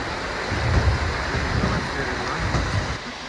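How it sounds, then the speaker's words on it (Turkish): A waterfall inside Saklikent canyon gives off a steady, close rushing roar of falling water that holds evenly throughout, with no clear voices over it. "Şimdi şelaleye gireceğiz."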